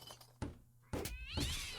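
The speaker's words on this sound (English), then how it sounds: "Cat." A cat in a horror video game gives a few short, sharp meows separated by brief thuds. The sounds come close and clear, with no talk over them.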